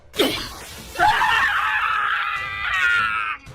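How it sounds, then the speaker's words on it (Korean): A man in an animated comic screams in pain after being woken with boiling oil, one long, loud, strained cry held for about three seconds after a short opening shriek. "놈은 정신을 차리자마자 추악한 비명을 질러댔다"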